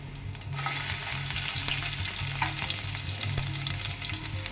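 Cumin, curry leaves and garlic hit hot oil in a pan, giving a sudden loud crackling sizzle that settles into steady spitting and frying, with a few scrapes and clinks of a stirring spoon, no voices.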